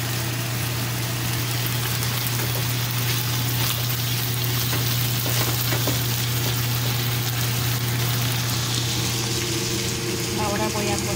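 Beef steak broth reducing in a pan for bistec a la mexicana, giving a constant hissing sizzle with a steady low hum underneath, close and fairly loud throughout.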